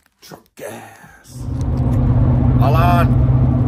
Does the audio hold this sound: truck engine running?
yes